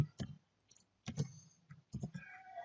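Code being typed on a computer keyboard in short clusters of light key clicks separated by brief pauses, close and fairly quiet.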